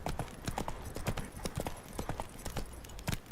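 Horse hooves clop in a quick, steady rhythm on hard ground, close by and fairly soft, with no voices, in the video game The Witcher 3: Wild Hunt.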